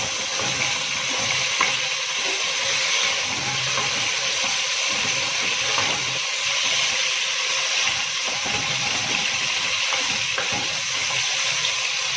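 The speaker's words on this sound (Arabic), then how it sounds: "نحط حبايبي اللحمه بتاعتنا عشان نديها صدمه، يعني نقفل المسام بتاعتها" Beef chunks searing in hot melted ghee in a pan for an Egyptian okra and meat tagine, giving a steady, loud, close sizzle and hiss with no talking.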